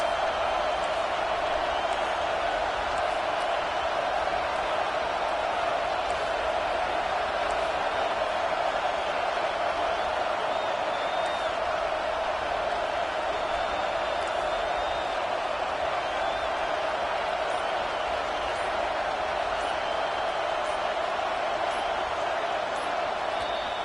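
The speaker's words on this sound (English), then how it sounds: "Listen to this crowd just shaking the girders of this place, trying to help their defense." A packed college football stadium crowd roars steadily to back the home defense, a loud, dense, continuous wash of cheering that holds for the whole stretch.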